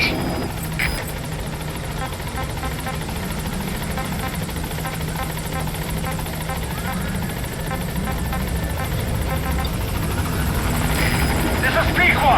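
Helicopter from Metal Gear Solid V arriving at a landing zone, a steady loud rotor drone holding throughout with a radio voice speaking over it.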